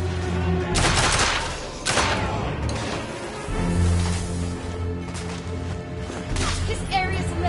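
Rapid gunfire bursts and volleys from The Order: 1886 go off loudly and continuously in a tense firefight, with heavy booming shots and mechanical rattles throughout.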